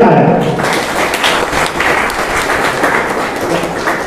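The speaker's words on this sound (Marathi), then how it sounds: "पुन्हा एकदा जोरदार टाळ्या." An audience at an event about preserving old buildings in Ahmednagar breaks into loud, sustained applause, a dense wash of clapping that fills the hall for several seconds.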